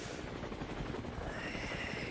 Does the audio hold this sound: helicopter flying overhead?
yes